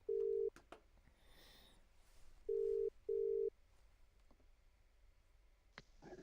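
Three short electronic phone tones, one at the start and two close together later, separated by quiet background noise and faint clicks.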